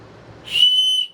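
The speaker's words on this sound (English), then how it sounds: "Yep, that is definitely a loud ass whistle" A single loud, shrill emergency-kit safety whistle blast rises out of quiet low rumble and holds for about half a second before stopping.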